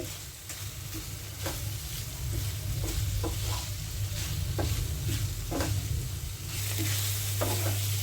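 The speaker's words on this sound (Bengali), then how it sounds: "মিষ্টি কুমড়াটা আমি ভালো করে ভেজে নিয়েছি।" Boiled pumpkin pieces fry in a little oil in a pan, a steady close sizzle broken by frequent spatula stirs and light scrapes, with a low hum running underneath.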